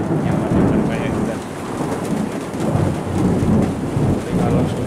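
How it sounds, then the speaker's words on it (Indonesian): Rolling thunder rumbles loud and close over steady rain in a village, just before a heavy downpour, the low roar swelling and easing continuously with no pauses. "Yang banyak itu pada saat sebelum hujan deras, petir yang ada banyak juga."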